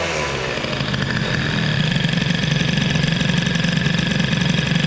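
A Peugeot 103 moped with a hybrid air-cooled Stage6 MK2 engine and MVT CDI idling loudly up close, a fast steady putter that hangs high and is slow to settle down.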